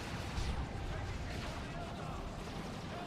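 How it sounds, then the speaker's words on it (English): Grenade blasts in the Dawn of War 2 Elite Mod strategy game, a dense rumbling wash of battlefield explosions and gunfire that runs steadily throughout at a moderate level. "Double grenades, so securing that kill"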